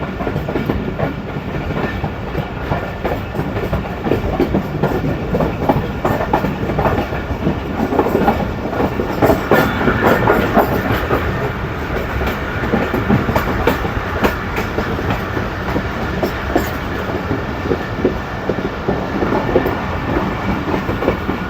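Steady loud rumble of the Pakistan Express rolling over rails near Chaklala railway station, Pakistan, with rhythmic clickety-clack from the wheels and rattling cars, heard from on board.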